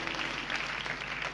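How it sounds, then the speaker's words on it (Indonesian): A church congregation clapping together in worship, a steady dense patter of many hands filling the room, with no talking over it. "Berikan tepuk tangan bagi Tuhan Yesus."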